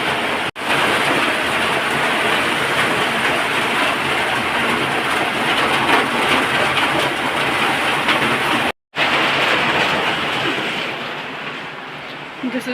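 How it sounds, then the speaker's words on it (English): Heavy rainfall pours down in a dense, steady hiss and roar that stays loud throughout, broken only by a couple of brief cuts. "it's like very badly raining"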